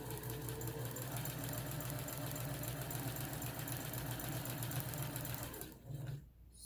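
A Kenmore Sensor Sew 70 sewing machine runs steadily at close range with a fast, even mechanical whir and buzz, then slows and stops near the end. No voices are heard.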